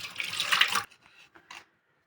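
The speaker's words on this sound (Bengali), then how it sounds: "মাছগুলোকে আগে ভালো করে ধুয়ে নেব" Fish being washed in water. A close splashing and swishing wash lasts under a second, then a few faint, brief drips and trickles follow before silence.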